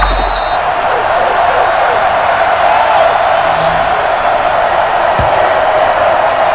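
A stadium crowd in Madden NFL 21 roars in a steady, loud wash of cheering that stays constant throughout, with no break or distinct individual shouts.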